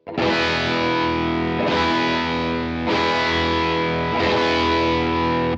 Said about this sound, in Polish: Ładny, taki masywny akord właśnie zagrany na mocnym przesterze